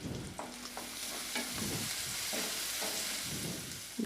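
Onion and crushed garlic sautéing in a pan for a Tamil manathakkali greens dish, a steady close sizzle broken by scraping stir strokes about every half second, with no talk.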